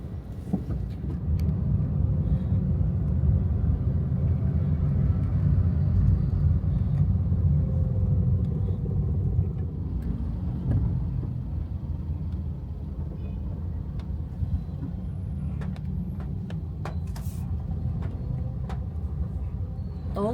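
Dense, slow-moving traffic in Metro Manila on a rainy afternoon, a steady low engine rumble from cars that fills the whole stretch, with occasional faint horn-like tones over it, heard from inside a vehicle.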